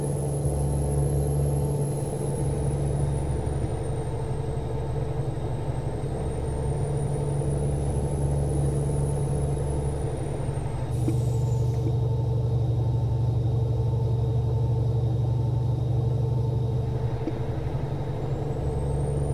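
A heavily loaded truck in American Truck Simulator cruises at steady highway speed, its deep engine drone and rumble running unbroken and fairly loud with a faint high whine above, alone without talk.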